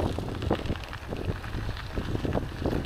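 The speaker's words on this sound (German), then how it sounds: "Eieiei, geht da gerade der Wind." Strong head-on crosswind buffets a bicycle rider on a gravel road along the Aare route between Bern and Biel, a steady loud rumbling roar with gusty swells throughout, no talk.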